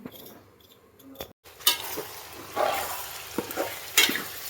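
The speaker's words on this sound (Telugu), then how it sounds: "అల్లం వెల్లుల్లిపాయలు అయితే నేను వేసేసాను" Ginger and garlic fry in a pan with a steady sizzle, broken by scraping stirs and spatula knocks against the metal, close and fairly loud.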